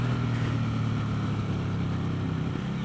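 A 2017 Suzuki Boulevard M109 BOSS cruiser motorcycle held at full throttle in second gear, its big engine giving a loud, steady, unbroken roar close by with no talk over it.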